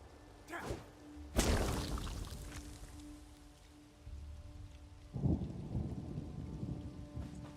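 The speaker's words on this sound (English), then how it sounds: "You can't stop the rain." Rain and rolling thunder in The Elder Scrolls Online, a steady hiss of rainfall with two heavy thunder crashes, the second rumbling on near and loud, alone without speech.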